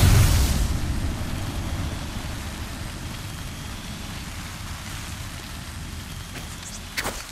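A frag grenade in Apex Legends goes off with a loud, broad boom at the very start, then a long rumbling, hissing decay fades under the action, with a small sharp pop near the end.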